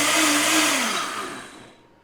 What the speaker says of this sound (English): And then I'm just gonna puree these until completely smooth.